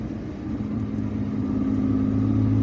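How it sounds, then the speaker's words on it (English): A car cruises along an Algiers expressway, its steady mid-pitched engine drone and road rumble holding at an even, close level and rising slightly over a few seconds, with no voices. "now we are driving up the Idir Street"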